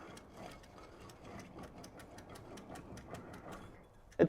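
A Flatfender Jeep drive shaft spun by hand while the gearbox is diagnosed, giving a faint, quiet run of evenly spaced light ticks and rattles at a steady rhythm, ending in a sharper knock.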